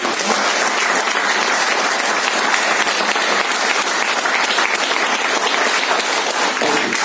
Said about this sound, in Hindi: जिनके लिए एक बार जोरदार तालियां।